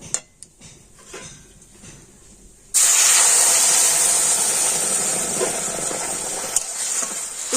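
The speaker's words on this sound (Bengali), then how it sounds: "আর এবার আমি মুগ ডালের মধ্যে দিয়ে দেবো জল" Water poured into a pan of lightly fried moong dal sets off a sudden loud, sustained sizzling hiss after a few soft kitchen clinks, staying strong and steady to the end.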